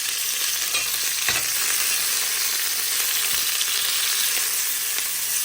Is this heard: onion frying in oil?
yes